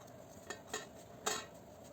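A knife chops thick pieces of bitter gourd (karela) on a board, giving three or four distinct, fairly close cutting knocks with short pauses in between.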